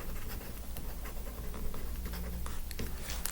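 Handwriting a mathematical proof gives faint, quiet scratchy strokes of a writing tool, continuous and close with small irregular taps.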